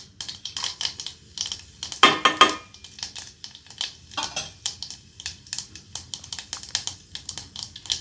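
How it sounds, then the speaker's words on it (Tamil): Mustard seeds spluttering and popping in hot oil in a pot while cooking sambar rice, a rapid scatter of sharp crackles and pops, fairly close and without talk. "நல்லா பொரிஞ்சிருச்சு."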